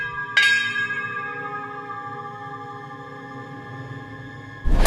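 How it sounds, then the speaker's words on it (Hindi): Bells ring on their own as a horror sound effect, one bright strike at the start and then a long shimmering decay that hangs for seconds before a sudden louder swell at the end. "कहीं कहीं घंटियां अपने आप बज रही थीं।"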